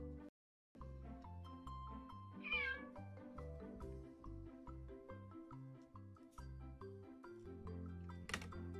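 A cat meows close up, one clear drawn-out call over a steady background of repetitive musical tones, with a soft tapping patter running throughout.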